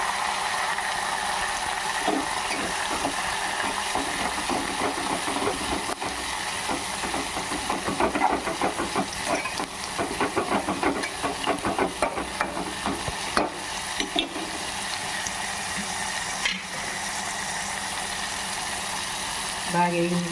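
Curry leaves and coriander frying in a pan for gongura pappu make a continuous close sizzle, with scraping and stirring sounds and a voice talking over them in places.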